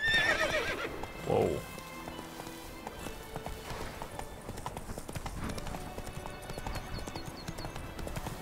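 Horse in The Witcher 3 game neighs near the start, then its hooves clip-clop in a steady galloping rhythm throughout, close and fairly loud, with a brief spoken exclamation early on.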